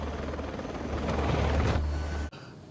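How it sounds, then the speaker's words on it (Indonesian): Helicopter in the action film Extraction lifts off and flies away, a loud close rotor thump and engine roar building, then cutting off abruptly near the end. "Nick membawa Ovi naik ke helikopter dan terbang."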